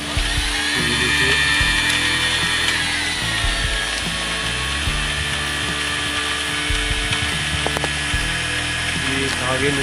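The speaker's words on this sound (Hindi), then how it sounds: "ये धागे में से अपने आप रिफिल होता जा रहा है।" An Usha sewing machine winds thread onto its bobbin with a steady, continuous whirring and mechanical ratcheting hum, close and unbroken throughout.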